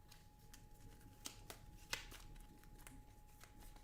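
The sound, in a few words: shuffling playing cards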